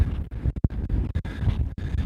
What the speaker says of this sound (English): this is a really windy day here today